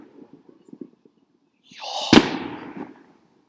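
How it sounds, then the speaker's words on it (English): Fireworks burst outdoors in a residential neighbourhood: a single sharp crack followed by a rushing, crackling tail that fades over about a second, preceded by faint scattered pops. "People shooting off fireworks like it's July 4th."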